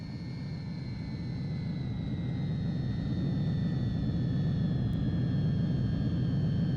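A jet aircraft landing in Ace Combat 3, a steady loud engine roar with a low rumble and high whine held throughout, no voices.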